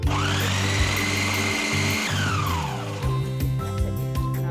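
A food processor pulsing atta dough with a little oil, a loud steady motor whir that drops in pitch as the dough catches, then stops and restarts in short pulses.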